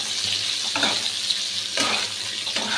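Pieces of pointed gourd sizzle in hot oil, with a few scraping stirs of a spatula in the pan; no talking.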